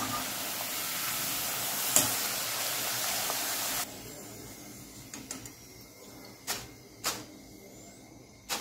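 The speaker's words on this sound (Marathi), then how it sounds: "बाकीचे चिप्स पण मी याच टाईपने तळून घेत आहे." Steady sizzling of potato chips frying in hot oil, loud at first, then quieter bubbling broken by a few sharp clinks and scrapes.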